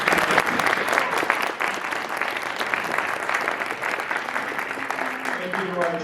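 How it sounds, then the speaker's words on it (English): Loud, sustained applause from an audience honoring students who took part in a judged competition, dense clapping filling the whole stretch with a few voices faintly mixed in near the end. "One more round of applause for all of our students participating."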